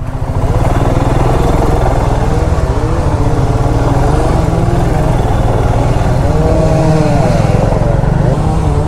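A motorcycle rides slowly along a road where a fallen tree lies across the way, its engine a loud, steady, close drone throughout with no break.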